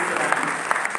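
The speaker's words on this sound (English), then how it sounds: "let's just give them a round of applause" Dense clapping from a seated audience at a college honors convocation, a brief burst of steady applause for the families of honorees.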